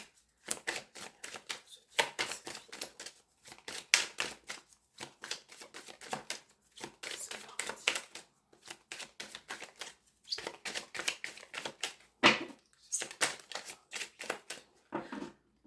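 Tarot cards riffle and slap in a long run of quick, crisp bursts with brief pauses between them, shuffled close by until a card flips over.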